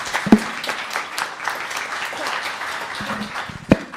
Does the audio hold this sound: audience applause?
yes